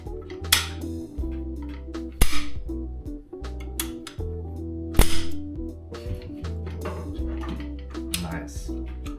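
A rifle bayonet is handled during a cleaning session, giving sharp metallic clicks and clacks at irregular intervals against a steady musical background.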